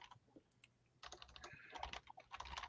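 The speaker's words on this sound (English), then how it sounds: "Everybody's typing." Several people type on computer keyboards in a room, a soft patter of key clicks that grows busier and denser after the first second, faint and without talk.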